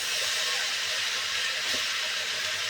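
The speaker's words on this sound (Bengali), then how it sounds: "গ্যাসটা কমিয়ে দিলাম, আর একবার নেড়ে দিই।" Vegetable curry of tender Malabar spinach and vegetables cooking in a pan over a low gas flame, a steady close hiss and sizzle with faint scraping as it is stirred, no talking.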